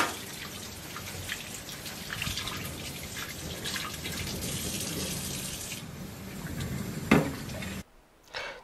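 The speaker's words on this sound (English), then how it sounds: "Rinse my strainer so I can strain one more time." Running water from a tap rinses a kitchen strainer, a steady close splashing rush that briefly cuts off near the end before resuming.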